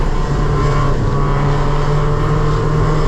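Race car engine held at full throttle during a wet race at Lime Rock, a loud, steady droning roar from inside the car with constant road and spray noise.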